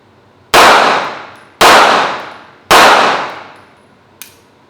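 Three loud, evenly spaced ringing clangs as a Beretta 92F compact handgun is fired slowly at steel targets, each hit decaying with a metallic ring, followed by a small faint tick.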